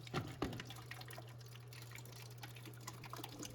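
Leftover water from a toilet tank drips into a bucket during a DIY repair, a few faint drips over a steady low hum, with a light splash at the start and end.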